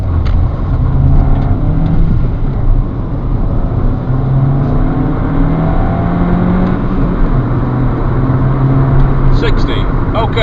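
A 2009 Skoda Octavia Elegance TSI estate accelerating hard from 0 to 60, its engine droning loud and steady with rising gear-by-gear tones inside the cabin.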